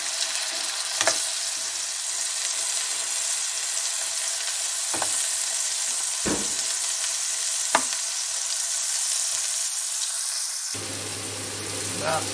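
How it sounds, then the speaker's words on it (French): Onions fry in a pan while meatballs in tomato sauce are prepared, giving a steady, close sizzle throughout with a few brief clinks and scrapes of stirring. "Donc, on fait revenir les oignons."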